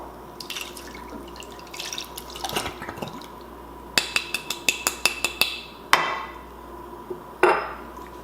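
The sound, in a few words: liquid poured into pot to warm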